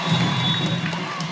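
A volleyball crowd cheers at match point, 24-23, in a Northwestern Oklahoma State versus Southwestern match, a brief sustained roar of voices and shouts filling the gym.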